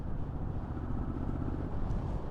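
A 2021 Triumph Street Scrambler engine runs low and steady in fifth gear at about 70, a smooth muffled drone heard close and without talk.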